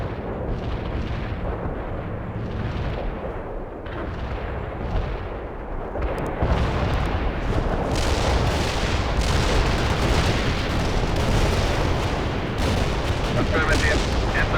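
An artillery fire-support strike lands in the video game World in Conflict. Heavy shells rumble and crack continuously and grow denser and louder about halfway through, with occasional game voices under the barrage.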